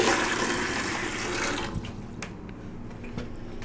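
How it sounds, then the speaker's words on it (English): Tap water runs and pours into a dog's water bowl, a steady broadband rush that tapers off midway into quieter trickles and a few faint clinks, with no talking. "I'm filling up your water still."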